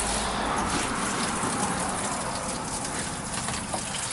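Water gushes steadily from a van drainage pipe into a tank, a continuous loud rushing pour with no pauses or voices.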